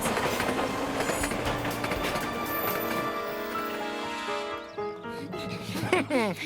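A metro train runs along the rails with rhythmic clickety-clack and metallic screeching, loud and close throughout, easing toward the end as squealing wheel tones rise.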